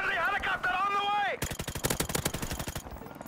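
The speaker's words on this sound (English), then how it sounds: "with the silencer, this gun's really effective." Rapid silenced gunfire in the video game Modern Warfare Remastered, a quick burst of muffled shots in an irregular rattling string, following a brief harmonic tone and ending abruptly.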